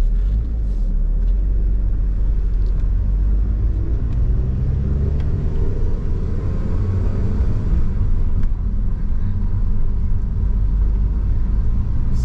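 A 1997 Eagle Talon TSi engine drones steadily while the car is driven, a loud, low, continuous rumble heard from close by with only slight shifts in pitch.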